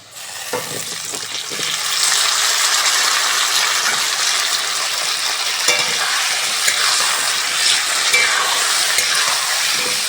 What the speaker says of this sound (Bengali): আলু ভালো করে ভেজে নিয়েছি